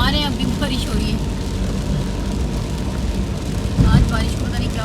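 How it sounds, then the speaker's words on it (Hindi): Rain falls at Alarnatha temple in Brahmagiri, Puri, Odisha, as a steady, dense hiss, fairly loud throughout, with a brief low thump near the end. "अभी आ रहे हैं अभी भी बारिश हो रही है"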